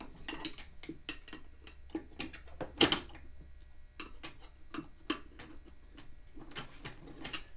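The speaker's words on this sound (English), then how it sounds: "I kind of slide the screwdriver back and forth on the rim so I can hear if I got the tube or not." A screwdriver scrapes and taps back and forth against a metal lawnmower tire rim while an inner tube is fitted, making a close, irregular series of sharp metallic clicks and scrapes with one louder clank.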